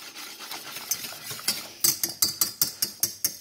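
Spatula scraping and tapping through thick boxed mac and cheese sauce in a pot to break up lumps, a loose run of soft strokes settling into a steady, close rhythm of sharp clicks.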